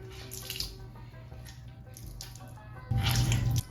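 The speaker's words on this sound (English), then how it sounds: "Squeeze some of the water out." Water squeezed from a wet rag while restoring a trout-style rocking fish, with faint trickles and drips before a louder gush of water splashing down near the end.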